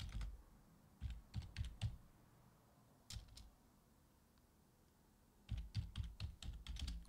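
Typing a group name on a computer keyboard in Windows: two bursts of quick, close keystrokes separated by a short quiet pause and a couple of isolated clicks, no voices.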